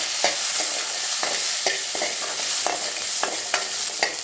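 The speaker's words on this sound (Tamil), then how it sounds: "இப்போ நெய் உருகுனதும் வெங்காயம் சேர்த்துட்றேன்" Onions frying in melted ghee in a kadai: a loud, steady sizzle with repeated scraping stirs of a spoon against the pan, no voices.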